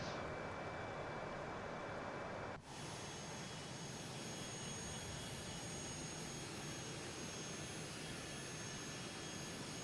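Embraer Phenom business jet in Microsoft Flight Simulator 2020 levelling off at cruise, with a steady, loud engine roar and whine that holds unbroken apart from one brief dip.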